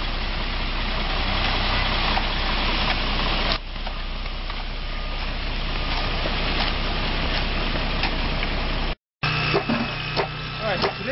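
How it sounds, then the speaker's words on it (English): A concrete mixer truck runs loudly and close by while pouring high-strength 3000 PSI concrete into foundation footers. The engine drones steadily with a rough, scraping churn, and a brief cut near the end is followed by quieter site noise. "right now we're starting to pour the concrete for the footers"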